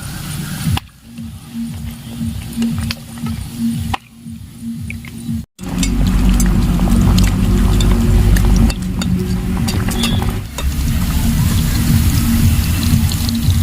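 Spinach puri deep-fries in hot oil with a loud, dense, bubbling sizzle that starts quietly, breaks off briefly, then swells into a strong continuous roar of frying close by.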